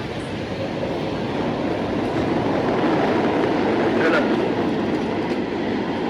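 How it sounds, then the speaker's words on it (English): A New York City subway train rumbles past underground, a steady loud roar with faint clatter heard from street level, continuous throughout. "That's the subway."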